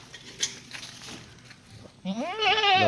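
Light rustling and scuffing, then a goat that has kidded twice lets out a loud, wavering bleat close by.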